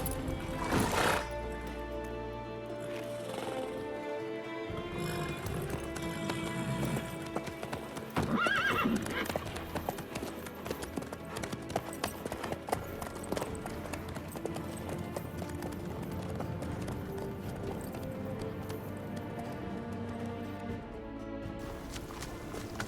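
Horse hooves clip-clop steadily in The Witcher 3, with a whinny near the start, a rhythmic walking gait continuing under game music throughout.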